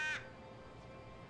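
A single crow gives a brief, sharp caw right at the start of a Doctor Who episode scene, 'The Eaters of Light', then quiet, steady background noise follows.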